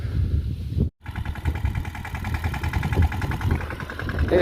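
A tractor engine chugs in a peanut field, a close, steady rhythmic thumping that cuts out briefly near the start and then runs on unbroken.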